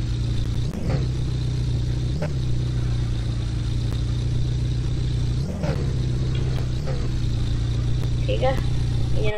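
A car engine idles steadily in the driving game Car For Sale Simulator, a continuous low, even hum with a few faint clicks and knocks on top.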